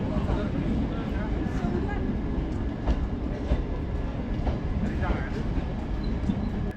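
A DMU train runs along a railway track during a long rail journey, a steady rumble with faint rhythmic clicks of wheels over rail joints, heard from on board with voices in the background.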